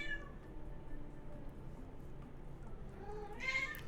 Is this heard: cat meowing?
yes